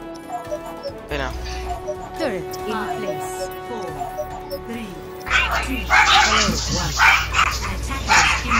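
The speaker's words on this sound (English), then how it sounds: "Damn, all them dogs" Dogs in the video game Overwatch bark and whimper in a quick series of yips and howl-like cries, mixed with game sounds and a rising burst of noise near the end.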